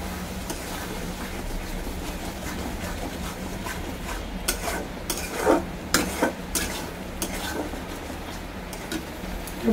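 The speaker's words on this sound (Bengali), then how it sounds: "আমার এখানে দেখুন মশলা কষানো" Spice paste with salt and turmeric frying in a pan for a Bengali dish, a continuous close sizzle with scraping spatula strokes that grow sharper and more frequent partway through.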